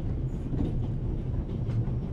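Train carriage rolling along rails in the point-and-click adventure game The Raven: Legacy of a Master Thief, a steady low rumble with soft rhythmic clatter filling the whole stretch, close and even, with no talk.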